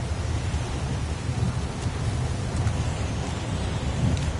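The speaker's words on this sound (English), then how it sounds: "It's pouring rain." Steady heavy downpour in a PS4 video game, a dense continuous hiss of rain with low rumbling underneath, constant and close with no talking.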